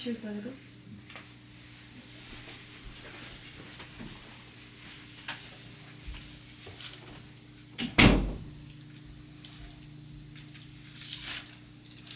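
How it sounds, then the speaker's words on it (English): A single sharp thud of a door shutting, standing out from a quiet indoor background with faint hum. "I just wanted to close the door."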